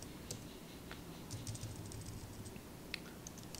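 Someone types a school name on a computer keyboard, a quick, faint, steady run of soft key clicks.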